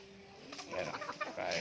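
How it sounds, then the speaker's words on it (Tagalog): Native chickens cluck and murmur close by at an outdoor cooking spot, a few short, soft calls bunched together against a quiet backdrop. "Yung mga manok namin dito mga boss oh"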